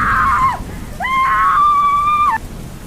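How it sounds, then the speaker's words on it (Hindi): A woman screams loudly indoors at night, two sharp cries, a short one and then a longer sustained shriek, close and alone with no talk. "उसने ज़ोर से चीखा"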